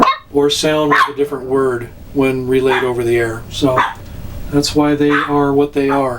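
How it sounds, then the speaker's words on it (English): A pet dog barks in short sharp yips indoors, several times and loudly, intermixed with someone speaking clearly in a home amateur-radio setting. "Excuse my dog for barking."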